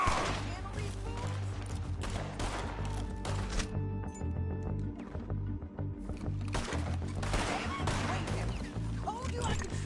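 Gunfire erupts in a Red Dead Redemption 2 shootout as rapid, sharp shots and bursts of volleys crack through most of the stretch, pausing briefly in the middle, with characters talking between the shots.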